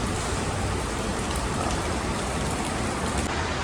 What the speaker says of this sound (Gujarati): મુંબઈ રેન ચાલુ થઈ ગયું